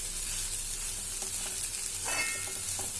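Egg and drumstick leaves stir-fried in a pan give off a steady sizzle, with scraping stirs that grow louder near the end. No voices are heard.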